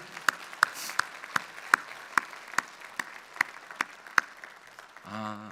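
Church congregation clapping in a steady, evenly spaced rhythm of about a dozen sharp claps, fairly close and clear, ending with a brief burst of organ-like tone.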